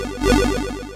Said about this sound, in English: load in a stereo expander